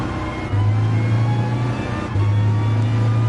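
Car engine revving hard in the GT Sport racing game, a loud sustained whine that climbs quickly through the revs with short breaks at gear changes, no talking.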